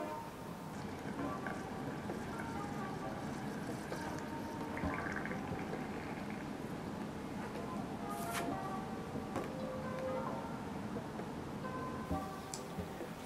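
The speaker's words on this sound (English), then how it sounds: "If you just take your straw, put it in the paint mix and blow." Air blown through a straw into a cup of paint mix makes steady, faint bubbling and gurgling that runs continuously with small pops throughout.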